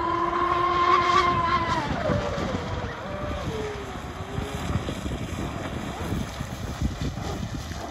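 An RC Big Cat speedboat on a lake makes a high-speed run, its sharp motor whine loud at first, then dropping in pitch as it races away, leaving wind and water noise.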